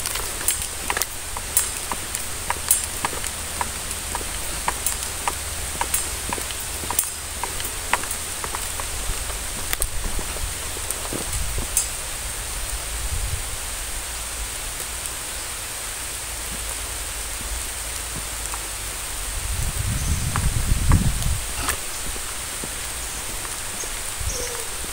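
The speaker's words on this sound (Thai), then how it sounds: "ฝนตกลงมาแล้วครับพี่น้อง" Steady rain falls outdoors on a road as a military patrol pulls back to base. It makes a dense, even hiss with scattered sharp drips, and a low rumble swells briefly near the end.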